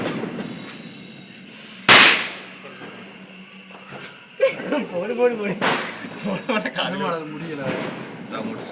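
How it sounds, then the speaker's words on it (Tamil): During a Diwali celebration, a firecracker from a 2000 wala string goes off with one sharp, loud bang. Quieter crackles and people talking follow. "இது செம்ம பெரிய வெடி, என்னமோ 2000 வாலாவாம் சொல்லியிருக்காங்க."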